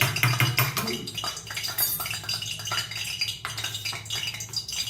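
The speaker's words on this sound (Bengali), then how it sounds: "গরম তেলটা দিয়ে আমি একটু ফেটিয়ে নিলাম" Jute-leaf fritter batter being whisked in a bowl right after hot oil is poured in, a busy clatter of utensil against bowl with rapid clinks and scraping that runs continuously and close by.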